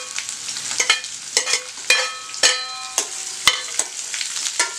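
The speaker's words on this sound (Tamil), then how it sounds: "வெங்காயம், புளி, மிளகாய் எல்லாத்தையும் வந்து போட்டு நம்ம வதக்கிக்கலாம்." Onion, tamarind and chili being sautéed in a pan with cumin and garlic, giving an irregular clatter of stirring strokes over a soft, steady sizzle, close and fairly loud with no voices.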